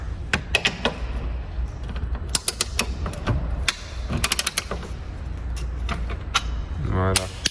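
A socket wrench is removing screws from a BMW E36 328i, heard as a close run of sharp metallic ratchet clicks and clinks in bursts, with a brief buzzy rattle near the end.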